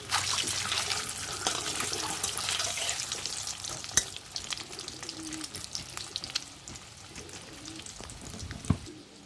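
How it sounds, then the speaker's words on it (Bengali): Eggs shallow-frying lightly in hot oil for egg curry, a close sizzle that is loud at first and gradually softens, with occasional sharp clicks and spatters as they are turned, no talk. "তো একদম হালকাভাবে আমি ডিমগুলো ভেজে নিচ্ছি"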